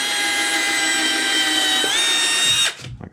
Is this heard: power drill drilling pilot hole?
yes